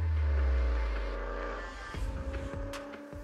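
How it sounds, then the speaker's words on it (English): Cadillac CTS-V engine starting and pulling away, a steady low rumble that swells into throbbing acceleration, fairly quiet and alone. "starting the car, and then off we go."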